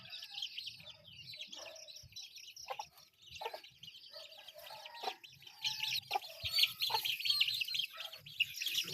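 A mother hen and her chicks settle down to sleep together, with soft clucks from the hen and a steady scatter of high peeping chirps from the chicks, close and continuous with no talk.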